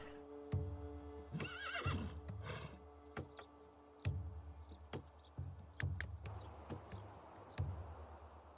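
Horses in The Sims 3 game give repeated neighs and whinnies with snorts and snaps of hooves, several loud calls spaced across the stretch over a faint steady background hum.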